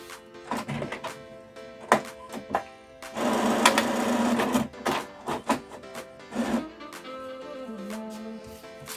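An HP inkjet printer feeding and printing on cardstock, with mechanical clicks and thunks, a sustained motor whir in the middle, and intermittent carriage movements, heard close up with no voices.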